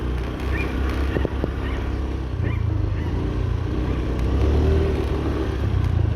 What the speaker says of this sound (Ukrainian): Двигун працює тихо.